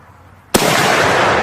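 A Kar98 rifle firing an 8mm round outdoors: one sudden loud, close crack after a quiet moment, followed by a sustained rolling echo and rumble.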